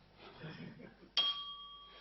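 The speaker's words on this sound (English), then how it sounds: "So I have a little bell there" A small hand bell is struck once, giving a bright ringing tone that sustains and slowly fades after faint, murmuring background talk.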